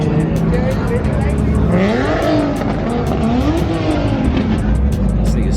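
A Nissan 370Z fitted with a full Tomei exhaust revs loudly up close on the street, its pitch climbing and dipping in repeated pulls while people talk nearby.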